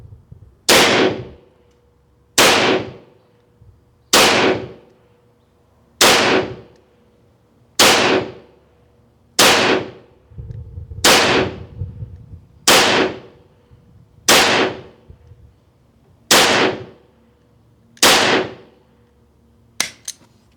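Eleven sharp 9mm airgun shots fired over a chronograph during a comparison of a T50 Extreme and a BINTAC T9, loud and evenly spaced about two seconds apart, each with a short ringing tail and no talking between them.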